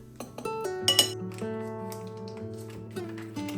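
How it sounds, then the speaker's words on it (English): Flour, baking powder and salt being stirred in a bowl, with a utensil giving bright, ringing clinks against the bowl, a few close taps and scrapes over a few seconds with no talk. "I'm giving that a quick stir before I set it aside"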